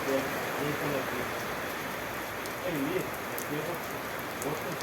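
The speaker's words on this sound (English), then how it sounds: "You can just see the rain comes more and more" Heavy rain pours steadily outdoors on a workday while a VW Mk1 gearbox is being refurbished, a dense, continuous hiss of drops on surfaces at fairly constant loudness with no voices over it.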